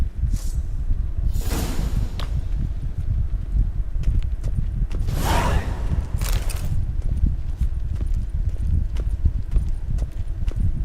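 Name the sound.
horses walking, from a video game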